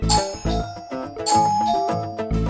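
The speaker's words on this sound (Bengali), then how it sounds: "দেখে তো কলিং বেলটা দিই তো।" A doorbell plays a bright electronic ding-dong chime at close range, its tones repeating in a clear melodic run while nobody speaks.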